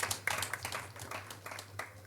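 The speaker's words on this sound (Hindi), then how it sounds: "जोरदार तालियों से उनका स्वागत करते हैं।" A church congregation at a Good Friday service applauds to welcome pastors' wives. The clapping is fairly quiet and uneven, with scattered claps rising and falling over a low steady hum.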